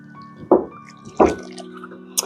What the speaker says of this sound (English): So I'm going to add a little bit more water to this.